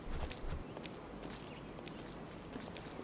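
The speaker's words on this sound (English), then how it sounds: "I can hear footsteps." Footsteps in the video game My Little Blacksmith Shop, a quiet series of soft, evenly spaced steps over a low ambient bed, no talk.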